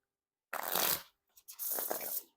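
Two close, crisp bursts of crackling flutter come from an orange Dale Earnhardt NASCAR deck being riffle shuffled, the first shorter and the second running almost a second, with a small tap in the gap.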